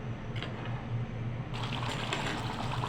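Water pours into a pot of simmering chicken curry, a soft continuous trickling splash under a low bubbling hum that grows brighter and fuller halfway through, with no talking.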